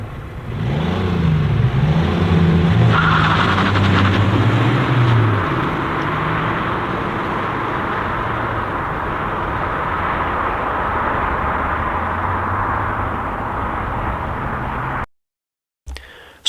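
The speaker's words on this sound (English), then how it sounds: "So the first run will be in eco mode and the second run will be in race mode, which is the most aggressive setting." A car making a test run with a throttle controller fitted, its engine droning loudly and steadily as it accelerates, with a rising tone early on before settling into a constant roar, then cutting off abruptly.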